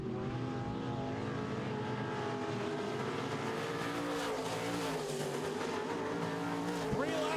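Midwest Modified race cars roar around a dirt oval in a continuous loud engine drone, revs rising and falling as cars pass through the turns.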